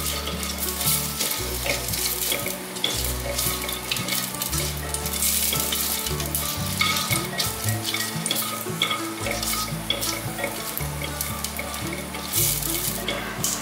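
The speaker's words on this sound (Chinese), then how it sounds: "大约12颗的白胡椒粒，2片的月桂叶，把它放进来。" White peppercorns and bay leaves stir-fried in a pan with star anise, a steady close frying sizzle with scraping stirs, while a low humming tone runs underneath and no one speaks.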